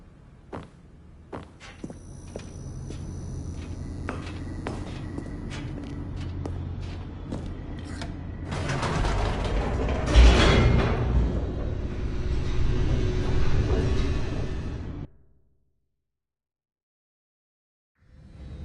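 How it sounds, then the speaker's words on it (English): A game elevator in The Stanley Parable 2 plunges downward with a steady low rumble and scattered clanks, building into a louder, rushing mechanical roar before cutting to sudden silence near the end. "The elevator raced downward"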